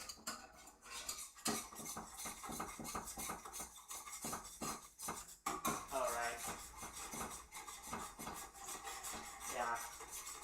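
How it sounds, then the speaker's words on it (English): A whisk beats rapidly against a bowl while making Swedish meatballs, with quick rhythmic metallic scraping and clinking strokes, close but quiet, and a voice talking intermittently over it. "A repetitive whisking, okay?"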